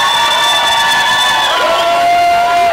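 Crowd noise fills a shopping mall at a charity event, a loud sustained wash of cheering and shouting voices with whoops and a long high tone or whistle running through it.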